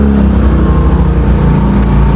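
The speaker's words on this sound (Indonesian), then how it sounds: "Ramai juga nih motor." Motorbikes passing in front of a house, a steady, loud low engine drone filling the whole stretch with no talk.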